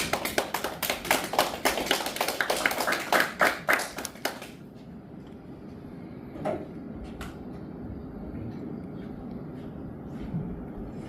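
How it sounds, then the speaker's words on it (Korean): An audience at a senior forum claps to welcome a lecturer, a fairly close burst of many hands that stops abruptly after about four seconds, followed by quiet room tone with a few scattered taps and knocks. "김용민 강사님 나오셔서 박수 한번 환영해 주시기 바랍니다"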